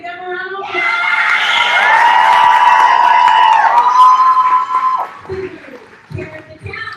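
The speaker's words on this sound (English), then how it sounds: "We can give them a round of applause." Graduation crowd for fifth grade graduates cheers loudly, with children's whoops and high shouts rising into a sustained roar, then dropping away into scattered voices and talk.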